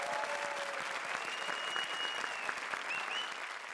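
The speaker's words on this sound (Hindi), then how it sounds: "तो एक बार जोरदार तालियां हमारी 4 तिकड़ियों के लिए।" Studio audience applause for the four trios on a Comedy Circus stage show, a steady dense wash of clapping throughout with no talk.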